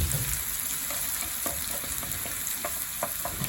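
Dumplings fry in a pan with a constant close sizzle, broken by a few scattered crackles and stirring clicks.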